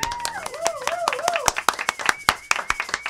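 An audience claps along at a live radio music session, sharp individual hand claps ringing out over a singing voice and music, getting more distinct and rhythmic toward the end.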